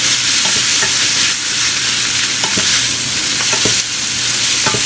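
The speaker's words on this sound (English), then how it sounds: "So you see we're back to frying now." Garlic and other ingredients sizzle steadily in a hot pan while a utensil stirs and scrapes at irregular intervals, close and loud with no talking.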